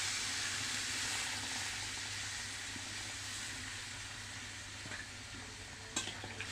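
Water poured into a Bengali curry in a hot pan gives a continuous, even sizzling hiss, with a few faint clinks near the end.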